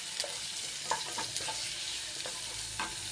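Onions with salt fry in a pan, giving a close, steady sizzle with a few soft scrapes of stirring across the short stretch.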